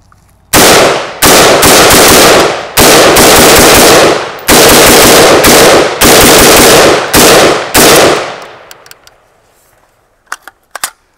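An AK-pattern rifle fires several rapid, very loud close bursts of automatic fire separated by short pauses, then goes quiet with a few faint clicks and handling sounds at the end.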